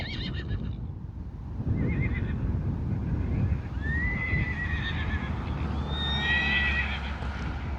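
A horse in the New Forest whinnies loudly in long, wavering neighs, rising in a drawn-out call over steady outdoor wind rumble, with a few hoof clops.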